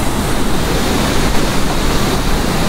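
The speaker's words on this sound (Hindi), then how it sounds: "मंदाकिनी नदी की आवाज़ सुन सकते हैं आप" Rushing water of the Mandakini river along the Kedarnath trek, a loud, steady broadband roar of fast-flowing mountain river close by, continuous throughout with no voices.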